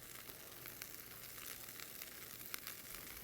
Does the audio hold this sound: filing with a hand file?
no